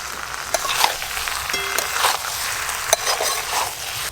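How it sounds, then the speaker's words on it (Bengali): Jackfruit and potato pieces being stir-fried in a spice paste of ginger, garlic, cumin and dried chilli, a steady close sizzle broken by several sharp scrapes and clinks of the spatula against the pan. "মশলার সঙ্গে ভালো করে এঁচোড় আর আলু আমি কষে নেবো"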